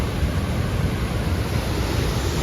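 A waterfall along the Pacific Crest Trail near Benson Lake gives a steady, broadband, close roar with no pauses and no voices.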